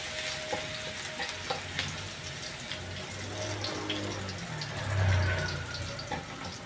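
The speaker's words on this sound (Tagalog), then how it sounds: "Nagigisa na po tayo ng ating bawang." Garlic sautés in a pan that earlier fried prawns, giving a constant close sizzle with scattered pops and a low rumble that swells briefly toward the end.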